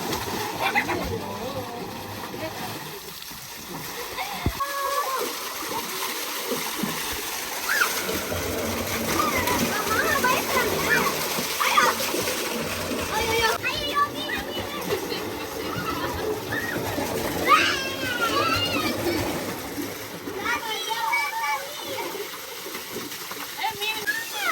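People splash water on one another in a farm water tank, with repeated splatters and sloshes under lively talking, while pigeons or doves coo in the background.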